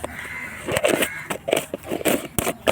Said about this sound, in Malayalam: കടുക് വന്നിട്ട് പൊട്ടട്ടെ.